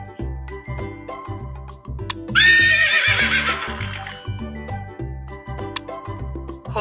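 A horse neighs in a loud, shaky whinny lasting about two seconds, set against a bouncy, repetitive musical backing track.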